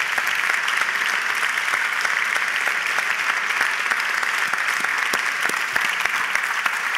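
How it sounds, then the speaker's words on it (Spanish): Audience applause at an award ceremony for the Eñe Festival prize, sustained dense clapping from a large crowd, even and loud for the whole stretch with no talk. "Un aplauso para que nos acompañen."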